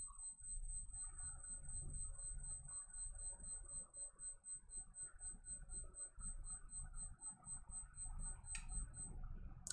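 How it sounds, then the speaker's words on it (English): An alarm clock goes off in a room, a high steady electronic tone repeating through the clip while a low rumble of movement sits underneath. "My fucking alarm clock going off."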